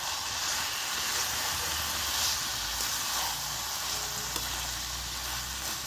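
Chicken with turmeric and chili powder sizzles and fries steadily in a pan, a continuous loud hiss with faint stirring scrapes and no talking.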